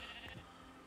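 A sheep in the video game Minecraft lets out a short, close bleat that is loud and alone, lasting about a second.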